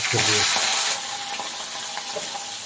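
Shrimp frying in hot oil for a jackfruit and shrimp curry: a loud hissing sizzle bursts up at the start, then settles into a steady crackle, with faint voices in the background.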